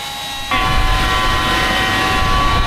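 Fans on a Horsch SW500 air cart run with a loud, steady whoosh and a high tonal whine that jumps up in level after half a second and then holds constant.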